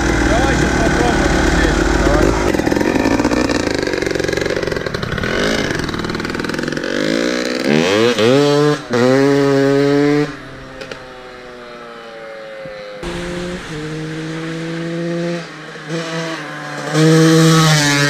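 A Honda CR 250 motorcycle engine runs loud and close, rising and falling through revs with sharp harmonic whines and idle dips, while people talk at times over it.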